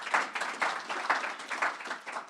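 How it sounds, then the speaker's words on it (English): Applause from an audience at a chamber of commerce state-of-the-community event, steady broadband clapping filling the room for a couple of seconds without talk. "Give Sam a round of applause."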